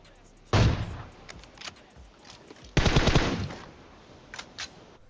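Gunfire in the mobile battle royale game PUBG Mobile, heard as two loud rapid bursts of automatic fire with scattered fainter single shots between them.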